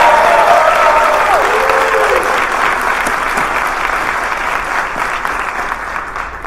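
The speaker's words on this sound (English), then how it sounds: "So give yourselves a round of applause." Loud, dense audience applause at a keynote for a City of Chicago small business event, a steady wash of many hands clapping that slowly tapers, with a brief voice over the start.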